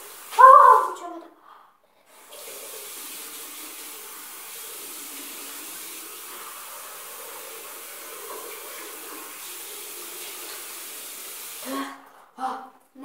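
Water pours down hard in a steady, loud hiss that holds for about ten seconds, with a voice briefly heard at the start and end.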